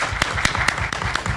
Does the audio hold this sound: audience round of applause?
yes